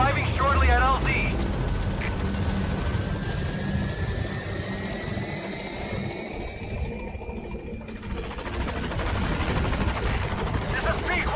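The Pequod support helicopter from Metal Gear Solid V arriving at a landing zone, a loud continuous rotor and engine roar that stays steady throughout, with radio voices talking over it.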